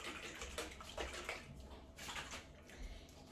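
Olive oil salad dressing with a citrus twist, for a winter persimmon and fennel salad, shaken vigorously in a closed jar, giving a steady sloshing, rattling wash of liquid heard up close and fairly quiet throughout.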